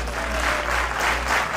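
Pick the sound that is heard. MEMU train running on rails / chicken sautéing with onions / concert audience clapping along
concert audience clapping along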